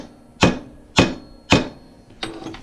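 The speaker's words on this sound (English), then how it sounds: "we're just going to put it on the vise there and bash it" A hammer flattens the end of a metal piece clamped in a vise, striking four loud, ringing blows about half a second apart, the last one slightly softer.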